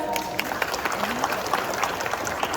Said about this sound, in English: let's give Mr. Will a round of applause